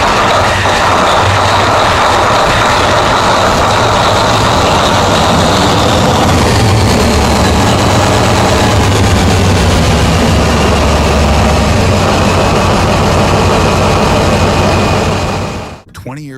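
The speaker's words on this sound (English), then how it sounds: "D399 is finally ready to roar again. A 16-cylinder, 67-liter beast coupled to a 1 megawatt generator" A 16-cylinder, 67-liter Caterpillar D399 diesel engine coupled to a 1 megawatt generator roars at a loud, steady, heavy low drone close by for about fifteen seconds before cutting out abruptly.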